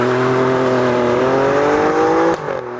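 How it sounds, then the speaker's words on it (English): An Alfa Romeo Stelvio Quadrifoglio engine revs hard and climbs steadily in pitch as it launches, loud and close, then abruptly drops off near the end. "let's put this engine to the test by launching it"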